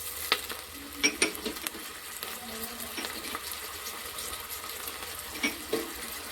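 Kalakura frying and being stirred in a pan for a Telangana-style dish, a soft sizzle under repeated light clinks and scrapes of a spoon against the pan, no talk.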